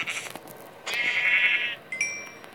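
Minecraft PE goat bleating in the video game, a sustained nasal cry near the middle with a short higher bleat after it, clear and close, with no talk.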